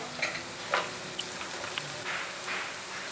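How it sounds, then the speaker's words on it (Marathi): Garlic frying with softened onion in a pan for penne pasta: a steady crackling sizzle with light stirring taps scattered throughout. "कांदा छान सॉफ्ट झालेला आहे आता मी यामध्ये लसूण घालत आहे"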